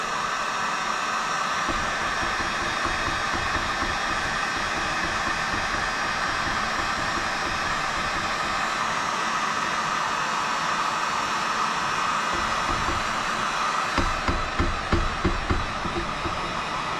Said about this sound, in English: So now we'll just heat gun it a little bit.